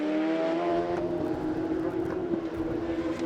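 Super street drag bikes at the FIM Euro Finals launching from the start line, a loud, sustained high-revving engine roar that holds steady and close throughout.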